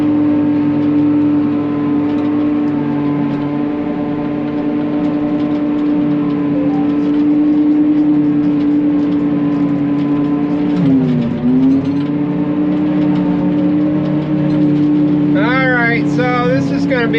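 A Chevy truck engine drones steadily and loudly throughout while driving, a constant low hum with a brief dip in pitch, and near the end chirping, warbling sounds rise above it.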